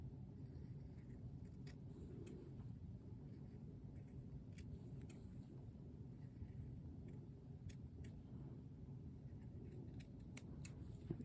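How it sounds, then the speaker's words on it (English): Scissors snip along a marked line on paper with small, faint crisp cuts over a steady low background rumble. "And then I'll just cut barely inside that line."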